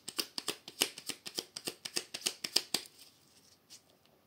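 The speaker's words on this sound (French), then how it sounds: "Allez, je vais faire une coupe du coup avec ce petit oracle." A deck of oracle cards being cut and riffled, a quick run of crisp, close card slaps and flutters for about three seconds, then a few faint handling sounds in near silence.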